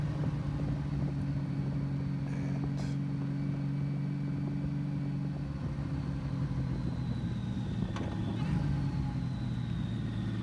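Honda Valkyrie motorcycle engine running steadily at close range, a continuous low droning hum with a shift in pitch near the end as gears change.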